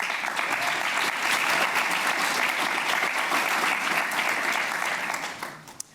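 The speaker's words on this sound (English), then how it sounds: "Please give them a round of applause." Sustained audience applause at a women business leaders' panel event, dense and steady clapping from a full room that holds for several seconds before tapering off at the end.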